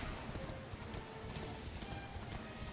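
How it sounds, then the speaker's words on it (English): Horse hooves clip-clop in the Dragon Quest XI S video game, a steady run of hoofbeats in a busy, continuous mix. "the horse is here"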